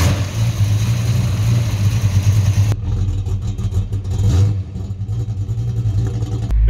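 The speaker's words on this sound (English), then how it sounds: "It's a red 308. It's got a 286 cam. It's lumpy." A red 308 V8 car with a 286 cam and head work idles with a lumpy, loping rumble, loud and close, the uneven beat continuing throughout with no talking.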